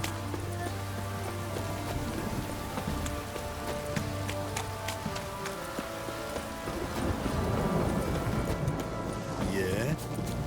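Heavy downpour in the video game The Witcher 3, a dense steady hiss of rain pattering on surfaces throughout, with faint low hum and occasional clip-clop of hooves.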